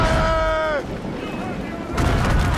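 Ship cannons fire in the Assassin's Creed Rogue naval battle, a loud booming barrage with rumbling low-end blasts; a sustained tone cuts off early, and a second heavy burst lands near the end.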